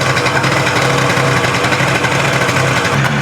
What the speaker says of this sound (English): Idle is like way high.